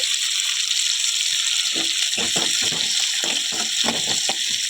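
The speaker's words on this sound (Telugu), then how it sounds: "చూస్తున్నారు కదా, నేను ఆయిల్లో ఫ్రై చేస్తున్నాను" Broad beans (chikkudukaya) fry in oil in a pan for a tomato curry, giving a steady bright sizzle throughout with irregular crackling pops and spits growing busier toward the end, no voices.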